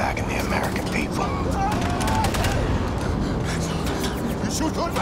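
Gunfire in a video game trailer, with rapid, continuous bursts like machine-gun fire and explosions under a loud, busy mix, with voices speaking over the action.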